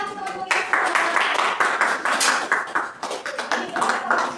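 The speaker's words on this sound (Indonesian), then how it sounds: "kita beri tepuk tangan teman-teman kita." Students clapping together in a classroom during an Islamic cultural history lesson, a burst of quick, uneven handclaps that starts after a brief pause and keeps going to the end.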